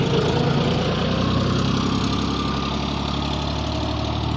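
Steady, loud tractor engine idling nearby, a continuous low rumbling drone with an even, unbroken throb and no talking.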